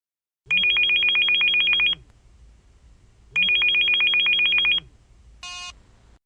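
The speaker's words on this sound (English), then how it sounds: "Listen to Brad's phone call." A telephone rings twice in long electronic trilling bursts with a pause between them, loud and close, followed by a short beep, with no talking.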